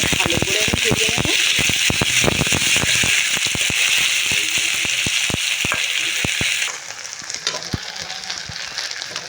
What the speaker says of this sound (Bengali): তেলের মধ্যে আমি পেঁয়াজ দিয়ে দেবো। দিয়ে দিচ্ছি কোচানো পেঁয়াজ। পেঁয়াজটা একটু ভালো করে আমি ভেজে নেব।